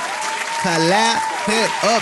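Crowd applause rolls on steadily while someone speaks over it in loud, emphatic bursts.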